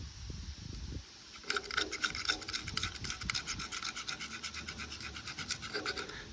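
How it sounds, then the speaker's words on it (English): A razor blade scraped back and forth across the two-coat painted surface of an M939 military truck, a rapid, rhythmic, close rasping that runs for several seconds after a short quiet start. "taking a razor blade across something, you're going to scratch it no matter what"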